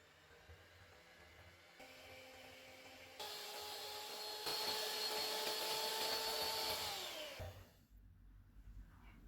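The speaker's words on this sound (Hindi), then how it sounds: "अब हम क्रीम को व्हिप कर लेते हैं।" Electric hand mixer whipping cream with powdered sugar, cocoa powder and coffee, a steady whirring motor hum that shifts up in speed partway through, then cuts off near the end, close and fairly loud.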